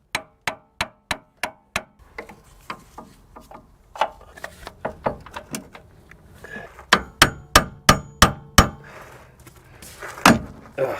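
Hammer taps on a ball joint in the upper control arm of a 2007-2013 Chevy Tahoe/Silverado: a quick run of five sharp metallic knocks, an irregular patter of lighter taps, then another rapid series of firm strikes, close and clear.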